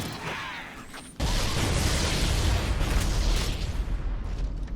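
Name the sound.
explosion in Halo video game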